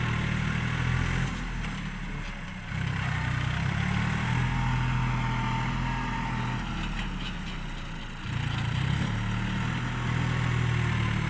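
New Holland TT3.50 tractor pushing a pile of soil for a dump truck: a steady, loud diesel engine drone, close by, that dips briefly midway before surging back.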